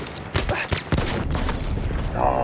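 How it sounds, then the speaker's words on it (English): A Selbstadler M1916 rifle is fired in the video game Battlefield 1. Several quick shots crack in close succession over background battle noise and a faint voice. "That's a second favorite gun I used to use, the Selbstadler M1916."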